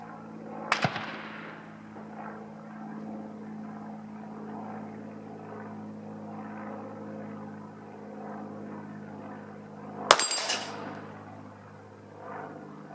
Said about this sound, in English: It's ready to fire.